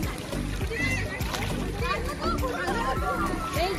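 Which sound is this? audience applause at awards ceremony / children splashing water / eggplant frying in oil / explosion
children splashing water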